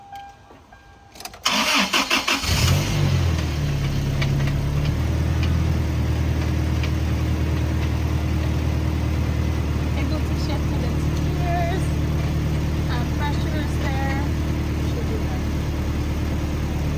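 A car engine cranks and fires after a clutch slave cylinder replacement, with a brief starter whir and then a loud, steady idle that holds close by while a person talks.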